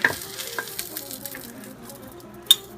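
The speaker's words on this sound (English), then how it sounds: "the oil is still hot enough to continue cooking the ones that are in there" Egg and parsley fritters frying in hot oil in a cast iron pan, a soft steady sizzle with scattered pops and crackles and one sharper spatter near the end, close and quiet with no talking.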